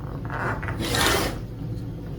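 A rotary cutter or ruler trims the top of a quilt's hexagon honeycomb border, giving a close, steady rasping scrape that swells briefly in the middle, with no talk.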